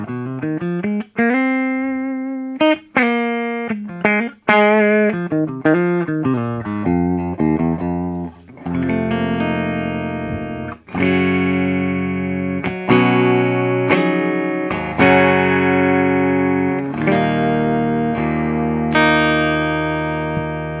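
Electric guitar through a Granville Copper Drive overdrive pedal playing a melodic riff with gritty, slightly dirty tone and ringing sustained notes, loud and close, no voices.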